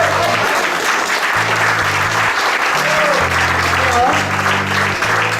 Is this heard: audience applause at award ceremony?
yes